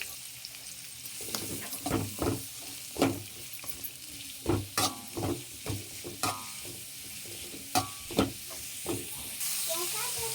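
Sliced onions with cloves, cinnamon and pepper fry in hot oil for a sambar while a spatula stirs them, making a steady sizzle broken by loud, repeated scraping strokes close by.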